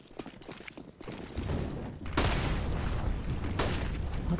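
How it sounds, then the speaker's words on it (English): Gunfire in a Counter-Strike match on the Vertigo map, with loud shots and bursts over busy game noise and a sharp crack near the middle. "Just a bit of a wild shot fired out."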